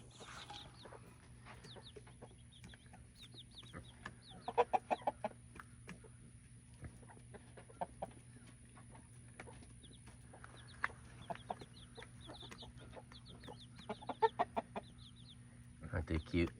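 Chickens on a small hog and vegetable farm cluck in soft, scattered bursts, some near and some farther off, with occasional faint talking in the background.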